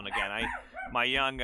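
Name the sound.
dog barking in the background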